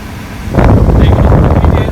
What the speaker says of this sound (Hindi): बहुत तेज हवा आ रही है भाई अब